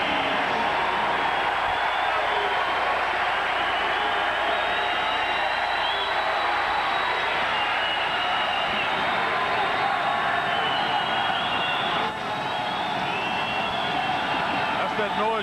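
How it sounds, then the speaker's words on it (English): Steady, loud roar of a college basketball arena crowd at UC Santa Barbara in 1990, sustained for the whole stretch with rowdy cheering and whoops, a broadcast commentator's voice faintly mixed beneath. "Got the crowd a little rowdy now."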